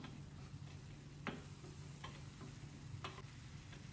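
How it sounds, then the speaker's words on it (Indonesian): Steady sizzling of chili paste (sambal) frying in a pan for Singapore laksa, with a few short scraping strokes of a utensil stirring through it. "Aduk-aduk, kita goreng sambelnya supaya sambelnya tahan lama."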